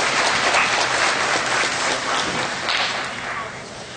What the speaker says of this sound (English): Please join together in a warm round of applause to welcome our judge